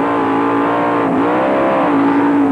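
Sprint car engines at the 1995 Knoxville Nationals roar loud and steady as the cars race through the turns, with the pitch dipping and climbing again as the throttle comes off and back on.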